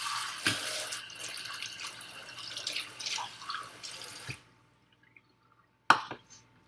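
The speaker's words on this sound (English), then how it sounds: "Let me rinse this out really quick." A jar is rinsed under a running tap: water splashes and streams steadily for about four seconds, then it cuts off, leaving near silence broken by a sharp clunk and a few small drips.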